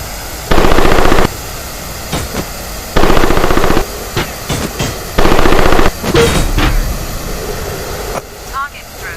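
Bursts of ME 262 A-1A jet cannon fire in a flight combat video game, three long loud rattling volleys with shorter stutters between, over a steady jet engine roar.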